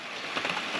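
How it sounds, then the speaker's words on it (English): Steady rain patters in the background, a soft broadband hiss with faint scattered drop crackles and no voices. "you can probably hear it's raining in the background"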